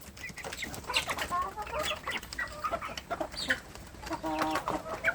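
Many two-month-old free-range chicks cheeping and clucking together nearby while being fed dry feed, a busy, continuous chorus of overlapping peeps.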